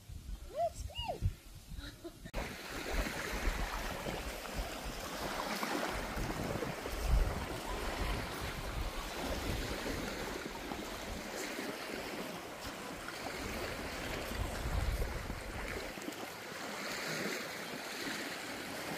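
Sea waves washing onto a beach on a birthday outing, a steady broad surf wash running throughout, mixed with wind and people talking and calling out to a dog.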